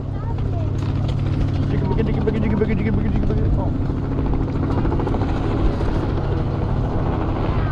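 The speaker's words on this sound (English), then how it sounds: "look at the helicopter" A helicopter's rotors thrum continuously in a loud, steady low drone, with faint chatter in the background.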